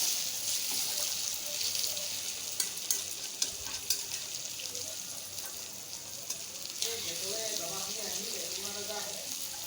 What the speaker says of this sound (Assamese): গতিকে আলুখিনি প্ৰথমতে এনেদৰে ভাজি ল'ব।